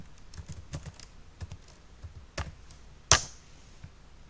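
Fingers typing Python code on a computer keyboard, a close run of quiet, irregular key clicks ending in one sharper, louder keystroke, with no voices.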